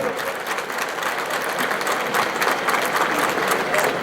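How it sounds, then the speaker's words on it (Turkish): Sustained crowd applause at an outdoor wrestling festival gathering in Elmalı, Turkey, dense and steady clapping throughout with no pauses, fairly loud and close. "şehir Belediye Başkanı Sayın Menderes Süreli coşkulu alkışlarınızla her meydanına davet ediyorum."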